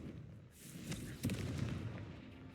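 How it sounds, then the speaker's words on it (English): Confringo fire spell from Hogwarts Legacy bursting in a booming explosion, a sharp blast followed by rumbling crackle, with a voice heard before the boom. "Confringo."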